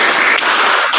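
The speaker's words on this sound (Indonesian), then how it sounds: "Tepuk semangat" A class of students performs a rhythmic group spirit clap, a loud, close wash of many hands striking together with a couple of sharper accents in a single brief burst.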